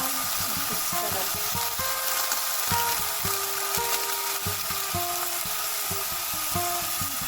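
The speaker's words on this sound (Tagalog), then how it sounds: "Haluin po natin." Pork sinigang with puso ng saging sizzling and frying in a pot while being stirred, with soft sizzle throughout and repeated scraping and knocking of the spoon against the pot.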